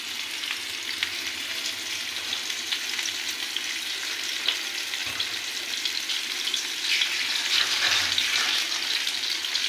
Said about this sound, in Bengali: আমার তেল গরম হয়ে গেছে। আমি মাছের টুকরাগুলো সব দিয়ে দেব।